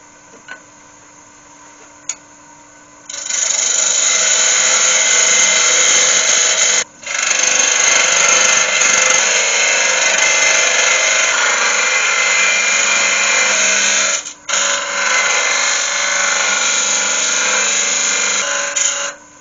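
Cedar pot lid spinning on a wood lathe, a steady broadband hiss of the tool cutting that starts after a quiet few seconds and runs loud and close, with two brief pauses where the cut stops.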